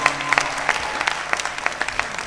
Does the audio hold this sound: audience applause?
yes